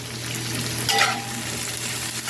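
Steak and onions sizzle and fry steadily in a hot pan, with a brief scraping stir partway through; no voices.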